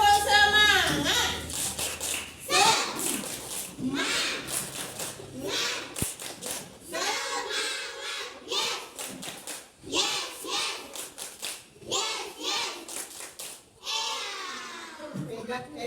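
A group of children in a classroom clap in quick rhythmic bursts, an Indonesian class cheer repeated in short patterns with pauses, mixed with kids' voices and the teacher talking.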